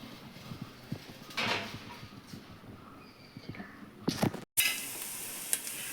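Crushed shallots hit hot oil and sizzle in bursts with some stirring clatter in a home kitchen, faint crackling rising then cut off and resuming brighter near the end.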